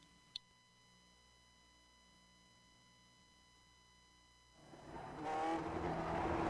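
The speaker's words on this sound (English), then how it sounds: "we're in the GSRC Lotus 49, so let's do a lap around Le Mans" A Lotus 49 race car in a racing game at Le Mans, near silence with a steady faint tone, then the engine roars in loudly and close over the last couple of seconds.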